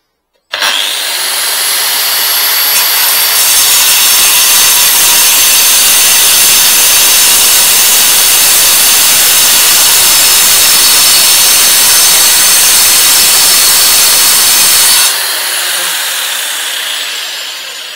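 A Hikoki angle grinder cuts a notch into paving during gate work, a loud, sustained high whine with gritty abrasive grinding that holds steady for about fourteen seconds before cutting off and spinning down.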